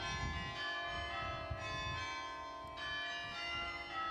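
Carillon bells of Grace Cathedral ring out in overlapping tones that sustain and decay, heard at moderate distance and fairly faint, with no voices.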